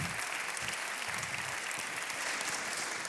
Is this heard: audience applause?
yes